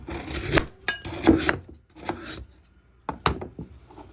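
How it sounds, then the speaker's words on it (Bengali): A knife cuts a block of jaggery into fine pieces, with a few scraping, rasping strokes and sharp knocks on a board, close and fairly quiet with pauses between cuts. "এখন সুন্দর করে গুড়গুলো কেটে নিব"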